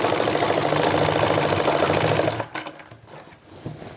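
A sewing machine stitches a women's shirt in a fast, loud, continuous mechanical whirr of rapid needle strokes, then stops abruptly, leaving a few faint clicks and handling noises.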